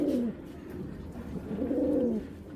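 Low throaty cooing from a pair of Ludo-bloodline racing pigeons, two rolling coos heard up close against a soft ambient hiss, with no speech.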